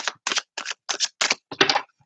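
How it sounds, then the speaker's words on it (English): Six quick riffling bursts of cards being shuffled, close up and evenly spaced, with brief silences between each pass. "So I'll shuffle up for a second."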